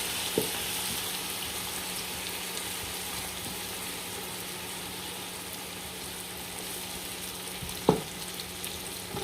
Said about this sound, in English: So I'm gonna add my onion to this oil.